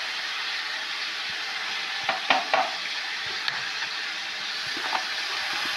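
Ginger and cumin hiss and sizzle in hot oil in a pan where cardamom, mustard and radhuni were already added while cooking shukto. A steady frying hiss runs throughout, broken by a few stirring clinks near the middle.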